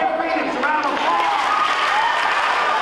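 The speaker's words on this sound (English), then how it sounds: "Give me some round of applause." Students clapping at a school assembly, a steady crowd applause running through the whole stretch with voices and shouts mixed in over it.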